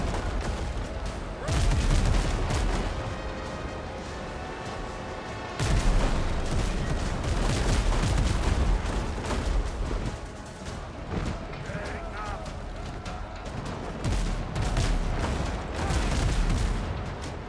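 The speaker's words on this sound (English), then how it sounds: "Give this guy a broadside as I drive by it" Heavy broadside cannon volleys from a brig in a naval combat video game, loud booming bursts rolling out in several waves with rumbling decay between them.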